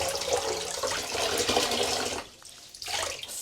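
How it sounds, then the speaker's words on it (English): Water streaming and splashing as a wet knitted vest is wrung out, a loud continuous gush with a short pause before more dripping and splashing. "Should I not wring out as much water as I just did?"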